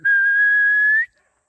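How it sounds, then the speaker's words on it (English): A person gives one steady, clear whistle lasting about a second, rising slightly at the end, to call chickens on a farm; it is close and alone with nothing else around it. "As I get those chickens to come by whistling."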